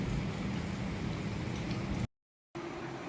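Rain falling outdoors at home, a dense steady hiss of drops at moderate level that cuts out abruptly for half a second before resuming; no talking.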